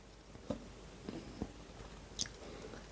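Raw garlic chewed close to the mic, heard as a few soft, sparse crunching bites over quiet background noise.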